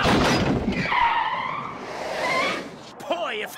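Cartoon car tires skid and squeal on the Who Framed Roger Rabbit DVD menu, a loud sustained screech with wavering high tones, with a voice talking over the start and a brief zany flourish near the end.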